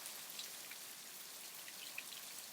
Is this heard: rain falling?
yes